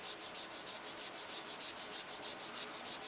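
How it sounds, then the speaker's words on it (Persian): Steady, rhythmic strokes of aluminium oxide sandpaper rubbing a power cable near the graphite layer edge while fitting a heat-shrink termination, an even back-and-forth scraping that runs alone and close throughout. "موقع سنباده زدن باید دقت بکنیم که سنباده ما به لبه گرافیک برخورد نکنه."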